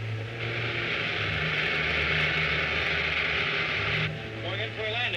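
Propeller airplane engine droning steadily as the aircraft comes in to land in a 1950s science-fiction film, a loud continuous hum with radio-like tones, easing slightly near the end.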